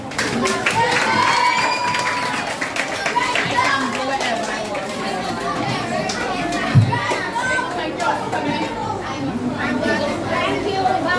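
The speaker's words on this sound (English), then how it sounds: "Give yourselves a round of applause." Schoolchildren applaud at the end of a human rights talk, with steady scattered clapping mixed into loud, lively children's chatter and shouting that runs throughout.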